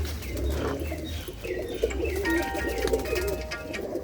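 Racing pigeons bred to fly high cooing close by in soft repeated throaty calls, with a few chirps and brief wing flutters over a low background hum.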